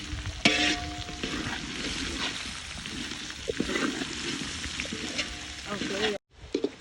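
Tempering (thalippu) sizzling in a pan with potatoes just added, a steady frying hiss with stirring scrapes throughout, a short silent break near the end.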